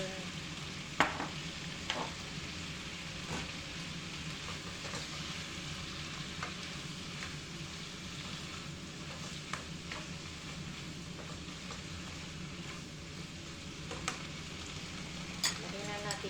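Octopus and vegetables stir-frying in a pan, giving a steady close sizzle with a few soft clinks of stirring on top.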